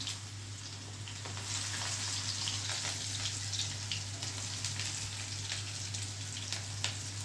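Continuous dense sizzling of onions frying in hot oil with asafoetida while making rava upma, steady and close, with a faint low hum underneath.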